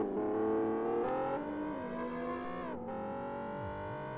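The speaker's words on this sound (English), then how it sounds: "You can still hear Roni's car disappearing off into the final corners of the lap" A race car engine in Live for Speed, at the Westhill circuit, revs high and pulls away with shifting pitch, fading as it heads off into the final corners of the lap, with no talk.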